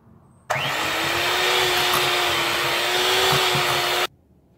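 Electric mixer creams butter and cream cheese, starting abruptly, holding a steady loud whirring drone for about three and a half seconds, then cutting off sharply.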